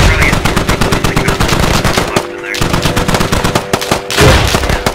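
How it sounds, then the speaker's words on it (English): Heavy automatic gunfire in the military shooter game Squad, very loud and nearly continuous, with overlapping bursts from several weapons, one short lull midway and a dense, close, roaring crackle. "We're taking heavy fire."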